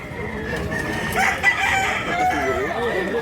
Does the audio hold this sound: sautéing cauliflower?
no